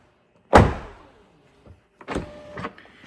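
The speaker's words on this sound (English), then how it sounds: "Close the door." Tesla Model 3 door shutting, a sharp solid thud up close followed by quieter mechanical clunks and a brief whirring latch or window motor.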